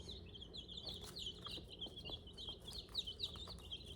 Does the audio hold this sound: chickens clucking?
yes